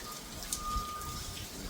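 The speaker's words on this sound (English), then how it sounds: "I'm sorry for the sound because it's raining and stuff." Rain falls outdoors in a steady, even hiss, with a faint tone and a light tap or two over the wash of drops and no one speaking.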